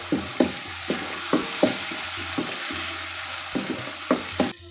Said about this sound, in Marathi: यामध्ये आपल्याला घालायचे ही भिजवलेली मुगाची डाळ आपल्याला हे परतवून घ्यायचं आहे